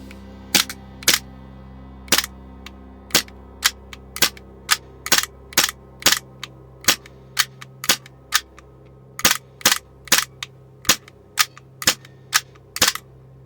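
An Army Armament G17 gas airsoft pistol fired repeatedly, sharp loud cracks spaced roughly half a second to a second apart in an uneven rhythm, close and alone with no talk.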